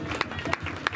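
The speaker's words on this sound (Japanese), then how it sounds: "アイラちゃんに拍手をどうぞ。" An audience claps for the idol Aira at a Hiroshima night festival stage show, a brief burst of dense applause with a few sharper claps standing out.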